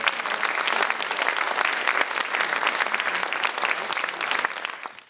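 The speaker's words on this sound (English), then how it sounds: "Let's give them another warm round of applause." Warm, sustained audience applause following a musical performance, full and even clapping that tapers off at the very end.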